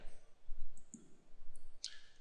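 Computer mouse clicking during modeling work on nightstand parts, a few short sharp clicks spaced irregularly over a quiet background.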